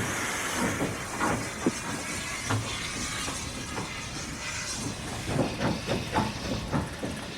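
A Great Western Railway steam locomotive's big driving wheels spin and slip on the rails, giving a steady loud roar of steam hiss with irregular chuffs and clanks throughout.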